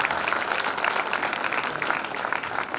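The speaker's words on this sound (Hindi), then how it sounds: "महारानी के सम्मान में तालियां कम नहीं होनी चाहिए।" Steady, dense applause from a large audience at a play about the Rani of Jhansi, continuous clapping throughout with no pauses.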